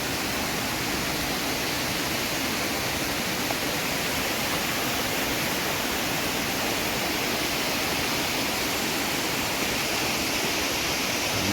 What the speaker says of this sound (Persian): و این هم یه آبشار دیگه.